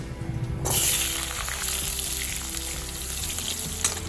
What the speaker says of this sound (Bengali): এবার আমি আলুগুলো খুব ভালো করে ভেজে নেব।